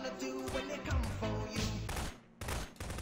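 Gunfire in a Garry's Mod Prop Hunt match, a dense burst of rapid shots and thuds at moderate distance, fading briefly before resuming, with some game noise around it.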